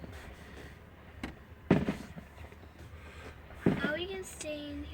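Fireworks at a fairground display burst in two sharp, loud booms a couple of seconds apart, each trailing off with crackle. A faint softer pop comes before them, and people talk quietly throughout.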